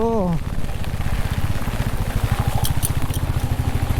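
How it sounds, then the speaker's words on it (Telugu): Heavy monsoon rain in Coorg pours down steadily in a dense, close hiss, with a brief sliding whine at the start and scattered brighter patters. "చాలా పెద్ద వర్షం పడుతుంది"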